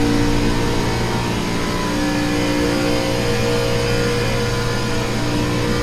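A race car in the iRacing NASCAR Xfinity Series at Atlanta Motor Speedway, held at full throttle with its engine note steady and loud, and a constant drone continuing unbroken through the whole stretch.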